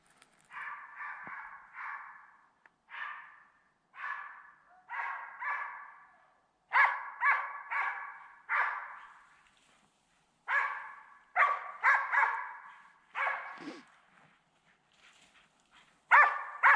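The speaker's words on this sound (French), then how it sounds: "Je vous laisse écouter la superbe chasse du chien." A hunting dog bays and barks repeatedly in irregular bursts while chasing deer during a driven hunt, the calls heard at a distance and somewhat faint across quiet woodland.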